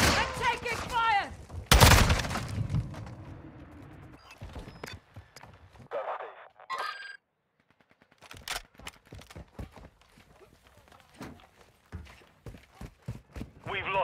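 Gunfire in the Call of Duty Modern Warfare 2 multiplayer Havoc mode: loud repeated shots and bursts, with a dense volley near two seconds, then scattered sharp shots trailing on through the remainder.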